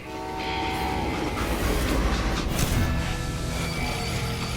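A video game train in Call of Juarez: Gunslinger rumbles along loudly and steadily, a broad mechanical roar with a horn-like tone rising over it midway through.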